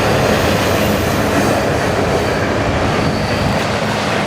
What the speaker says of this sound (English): Not all the trains stop here.